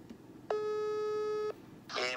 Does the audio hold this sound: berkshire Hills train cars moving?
no